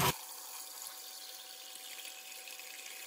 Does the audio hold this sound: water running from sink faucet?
yes